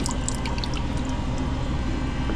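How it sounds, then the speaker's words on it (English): Water flowing back into an ice machine drain in a corner, a steady close rush and trickle with faint drips, with no voices. "You can really hear it flowing back in the corner there."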